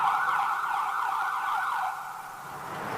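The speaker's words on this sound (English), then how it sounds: "We'll let the ambulance go by." An ambulance siren wails loudly with a steady tone close by on a town street in Leominster, then drops in level as it moves away.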